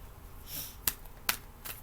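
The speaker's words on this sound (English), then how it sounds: "I love when they shuffle like smooth like that" Tarot cards are shuffled smoothly, a soft riffling whoosh followed by two or three crisp snapping bursts, close and fairly quiet, with no talking.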